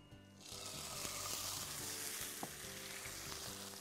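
Tofu sizzles steadily in a pan over lowered heat, one side browning, with a continuous bright frying hiss and faint clinks throughout, no talking.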